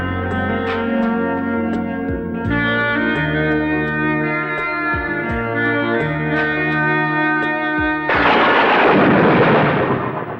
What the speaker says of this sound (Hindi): एक जोरदार बिजली कड़की